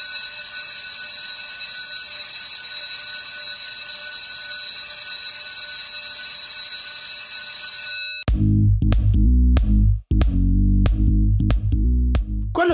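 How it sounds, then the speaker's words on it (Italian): Electric school bell ringing continuously and loudly for about eight seconds, then it stops abruptly and a burst of music follows. "Quello che avete appena sentito è il suono della campanella."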